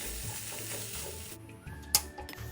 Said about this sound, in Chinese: 再继续炒一炒，在所有食材炒熟后就能熄火。